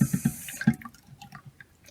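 Thick keto fat bomb mixture is poured and stirred into a measuring cup, giving soft wet plops and gurgles with a few light clinks, close and quiet.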